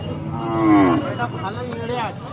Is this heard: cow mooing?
yes